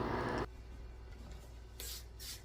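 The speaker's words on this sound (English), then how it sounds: "I like to spray them down with conditioner when I'm done grooming them" A spray bottle mists conditioner onto a dog after grooming, two or three short close hissing bursts, the first longer, with quiet handling noise between.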